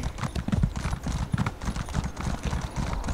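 Steady clip-clop of horse hooves trotting at a quick, even pace, close and continuous throughout, from a mount in the video game The Elder Scrolls Online.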